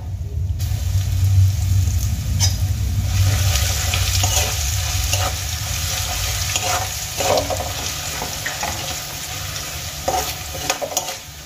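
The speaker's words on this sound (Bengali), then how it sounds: "আদা আমি সামান্য ভেজে নিয়েছি।" Grated ginger frying with whole spices in a pan, a loud continuous sizzle under frequent stirring scrapes, with a low rumble in the background.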